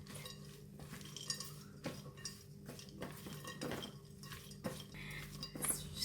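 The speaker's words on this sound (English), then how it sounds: "Very simple, just mix it." A Thai green mango salad with dry prawns is tossed in a bowl, with repeated clinks and scrapes of utensils against the dish in an uneven rhythm, close and fairly quiet, no speech.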